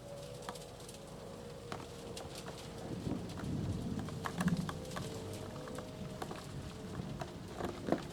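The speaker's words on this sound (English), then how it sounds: "Who knew it could rain?" Rain patters steadily in a VRChat liminal space game map, a soft continuous wash broken by scattered close clicks and drips, with a faint steady hum underneath and no talking.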